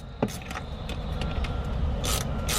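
Hose clamp being tightened on the intercooler pipe of a 2018 Honda Accord, close, short metallic clicks and ratcheting scrapes over a low background hum, with no talking.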